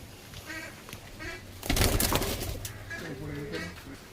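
Pigeons in a loft, including a Lowri and Shirazi cross, coo softly and intermittently in bursts, with a louder flutter or scuffle midway.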